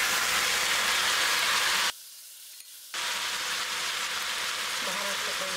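Tomatoes going into a frying pan with fried peppers for a breakfast sauce give a loud, bright, steady sizzle that breaks off into near silence for a second, then resumes.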